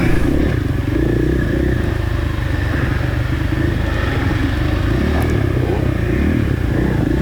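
A dirt bike engine drones loud and steady at high revs during a hare scramble race at Whiskey Creek, the motor close and continuous throughout with faint clatter.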